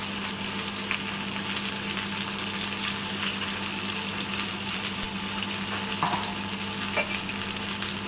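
Fish coated with lentil powder fries in a pan, giving off a continuous, even sizzle and crackle with faint occasional clinks.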